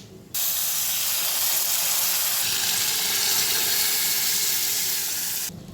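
Boiled moong dal and cabbage hit a hot tempering of spices and asafoetida in a pan, giving a loud, steady hiss and sizzle that starts abruptly and holds for several seconds before cutting off.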